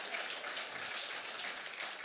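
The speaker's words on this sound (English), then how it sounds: "I think they deserve a round of applause" Steady audience applause for election candidates at a debate, a dense even patter of many hands with no break, moderately loud.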